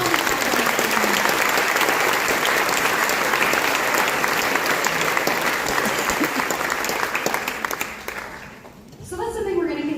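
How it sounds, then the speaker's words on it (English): Audience applause fills a school band concert for grades 5 through 12, a dense steady wash of clapping that holds for about nine seconds before fading, with a voice starting to speak at the end. "So big round of applause to all these kids that spent a ton of time."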